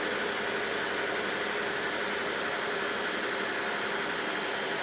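An Acura Legend engine idling steadily right after a head gasket repair, a smooth, continuous broadband hum close by with no talk.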